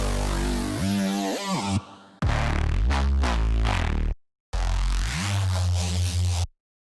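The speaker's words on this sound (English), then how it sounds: "We also have some crazy reese fills in it." Reese bass fills from an STMPD-style sample pack roar in gritty, detuned, modulated bursts that sweep and wobble, loud and dense, with two abrupt cuts to silence between phrases.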